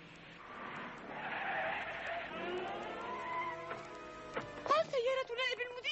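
Car tyres skid and squeal in a long rising screech, followed by sharp bursts of squealing near the end, with a voice briefly audible under it.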